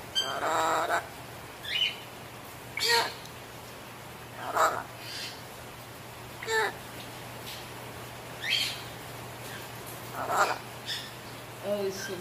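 A parrot repeatedly calls out short talking-bird phrases in bursts spaced a few seconds apart, moderately close, over a steady low hum, with no other voices.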